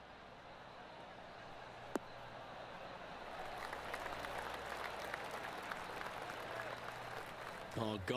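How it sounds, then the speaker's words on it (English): Golf gallery applause from PGA Tour 2K23: polite, steady clapping from a crowd that swells and holds for several seconds, with a commentator's voice underneath. "Oh, golf clap."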